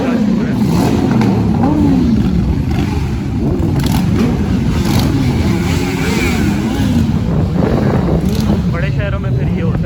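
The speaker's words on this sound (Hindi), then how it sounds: "बाइकर बॉयज कर रहे हैं और उनका शोर है।" Several motorcycles of a biker group roar nearby on a Toronto street, engines revving and droning in overlapping waves, with a voice talking underneath the noise.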